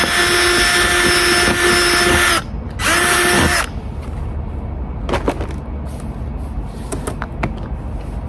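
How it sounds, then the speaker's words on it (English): Power drill fitted with a larger bit while building a bicycle camper, whirring loudly in two bursts, one long and one short, followed by quieter workshop clatter. "I need the bigger drill bit"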